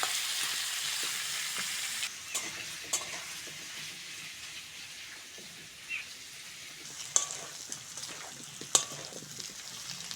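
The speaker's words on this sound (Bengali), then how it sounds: "পেঁয়াজের সঙ্গে আলুটা ভালো করে ভেজে নেব" Potatoes and onions frying together in a pan, a loud sizzle at first that settles into a softer fry, punctuated by occasional spatula scrapes and clinks against the pan.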